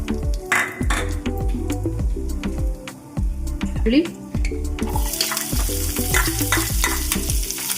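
Ground bay leaf paste frying in hot oil and ghee in a pan, a steady sizzle with spoon stirring and clinks, joined by a brighter hiss halfway through, as a voice speaks over it.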